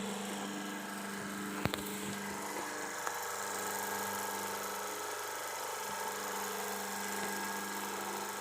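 A single-phase induction motor running with no load at about 1493 RPM gives a steady, even electrical hum and whine. It holds constant throughout, with one or two faint clicks and no voices.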